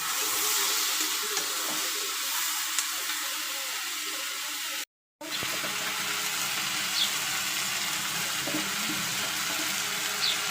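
Taro stolons frying in hot oil with browned onions and green chillies give a steady close sizzle and crackle, briefly cut off by a moment of silence before the frying resumes.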